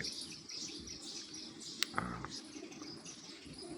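Small birds chirp faintly at a rooftop feeding spot stocked with grain and water pots at dawn, with scattered brief tweets over a soft, steady background.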